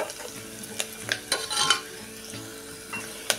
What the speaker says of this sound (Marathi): आता हे 2 मिनटं आपण छान असं कांदा गुलाबी होईपर्यंत परतून घेऊया